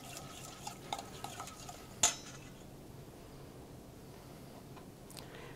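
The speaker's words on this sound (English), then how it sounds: "Stir that up." Charmoula marinade of vinegar being stirred in a bowl: faint scattered scrapes and light taps of a utensil, one sharper clink near the middle, then quiet with a last soft tap, all low and close.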